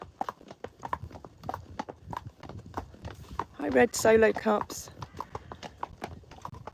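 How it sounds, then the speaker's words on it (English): Steady clip-clop of hooves on a hard road, a brisk walking rhythm close by, with people talking briefly over it and a louder burst midway. "It's a very therapeutic sound, and clip-clopping along the road."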